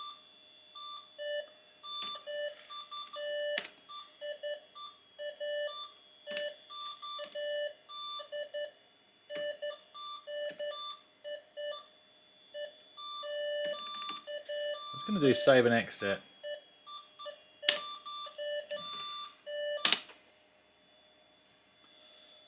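A Slot 1 PC build emits a steady, repetitive pattern of electronic beeps, moderately loud and close, with a brief louder noise burst and a sharp click near the end; someone speaks briefly over it.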